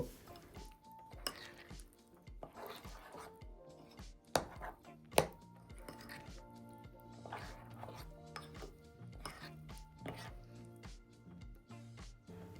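Poppy seed paste being mixed with tomato, green chilli and onion in a bowl gives quiet, irregular clinks and scrapes of a spoon against the dish, with a few sharper knocks.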